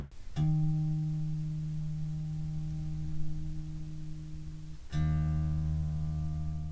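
A newly installed guitar string is plucked and left ringing twice, each note sustaining steadily at close range while it is tuned to pitch, in a quiet room with no talking.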